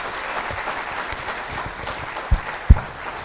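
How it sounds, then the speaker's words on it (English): Light applause from a small audience at a panel conversation, a soft, thin patter of clapping with a couple of sharper knocks near the end. "can we give them a round of applause?"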